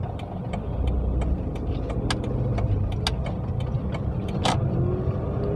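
A car pulls away after the clutch is pressed, its engine running steadily at moderate volume throughout, with small clicks and knocks from inside the cabin.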